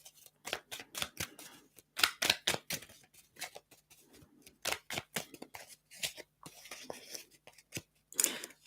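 A deck of tarot cards being shuffled in quick bursts of crisp riffling snaps, close and fairly quiet, with short pauses between.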